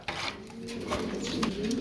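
A male Lahori pigeon coos continuously at close range, a low throaty rolling call from a bird offered for sale.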